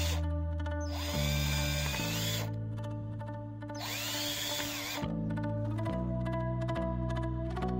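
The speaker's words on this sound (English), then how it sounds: "Now I'm going to drill two holes." A power drill bores two holes in a DIY vapor blaster build, two whining bursts each about a second long, rising and holding steady, close and loud, with quieter motor hum between them.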